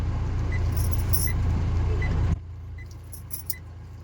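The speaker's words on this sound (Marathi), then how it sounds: "गाडी पार्किंग करतो जरा." A car pulls in to park on a village trip; its engine rumbles steadily with soft repeating chime tones, then cuts off abruptly, leaving quieter background noise and light jangling.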